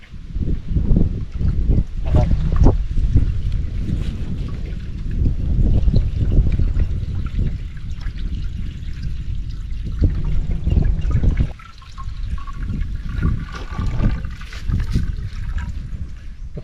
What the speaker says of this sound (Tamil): ஓகே நம்பர்களே, தண்ணி ஊற்றிக்கலாம் வாங்க